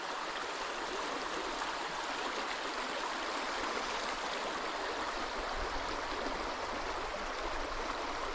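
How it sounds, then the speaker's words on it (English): A half-frozen river runs in a continuous broadband rush, steady and fairly close, with no talking and no breaks. "the nice soothing sound of the river."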